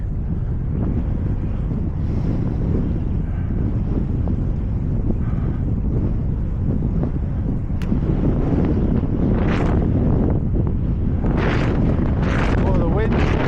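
Strong wind buffets the microphone during a ride along a floodplain track, a constant loud rushing roar with gusts and faint higher whooshes building toward the end.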